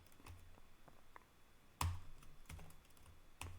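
An old computer keyboard clatters with irregular, close keystrokes, a few sharper clicks standing out from the quieter tapping, with no one talking.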